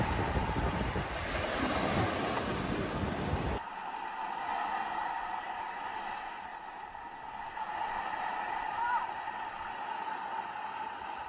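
Ocean waves swirl along the Samcheok coast in a broad, continuous roar with wind buffeting the microphone, louder in the opening seconds and then settling into a softer steady wash.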